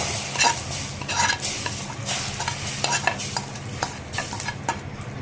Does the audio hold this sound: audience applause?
no